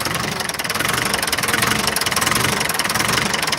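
A diesel engine with a leaking injector pump idles steadily, a loud, continuous rumble with a rough, knocking texture and no talk over it.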